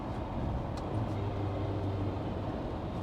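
Ferrari 308 GTB engine and exhaust droning steadily while driving, a low baffled exhaust tone holding constant and close, with a faint steady hum rising partway through.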